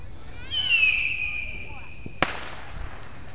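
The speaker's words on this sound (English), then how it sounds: "The noise those mortars make are so cool, man." Mortar fireworks going off outdoors: whistling rising shell tones, then a single sharp loud bang followed by a fading crackle, with a low rumble of background noise throughout.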